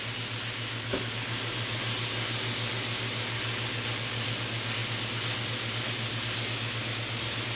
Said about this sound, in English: We're gonna saute this till it's nice and almost tender before we add our meat